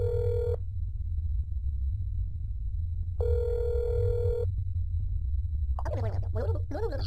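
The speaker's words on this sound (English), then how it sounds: "Do a quick phone call." Ringback tone from a telephone call in the video game That's Not My Neighbor, two long steady electronic beeps separated by silence over a low hum, followed by a brief burst of voice.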